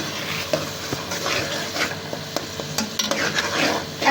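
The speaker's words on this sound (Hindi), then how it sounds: "अब इसमें मैं ये अदरक लहसुन का पेस्ट डालती हूँ 1 खाने का चम्मच, और इसे भी 2 से 3 मिनट भूनना है हमने।" Ginger garlic paste fries with browned onions in a home kitchen pan, giving a busy close sizzle with frequent spoon scrapes and clinks against the pot, no voices over it.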